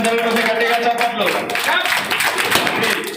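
An audience applauds at a retirement ceremony for a regional transport corporation official, with a dense, steady wash of clapping throughout and a voice talking over it at first.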